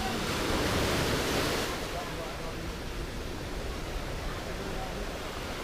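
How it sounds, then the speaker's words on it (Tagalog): Strong ocean waves at a rocky shore near Nasugbu, Batangas roar as a continuous close wash, louder for the first second and a half and then settling into a steady rushing hiss. "Gusto ko yung lakas ng alon"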